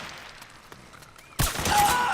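Gunfire in the video game Metal Gear Solid 4 erupts suddenly after a quiet stretch, a loud, dense burst of shots that keeps rattling on, with faint incidental sounds before it.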